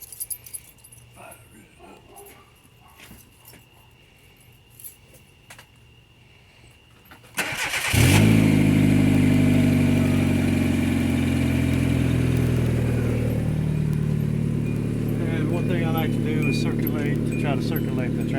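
A car engine cranks and fires after a few seconds of quiet with faint voices, then settles into a steady, loud idle that runs to the end.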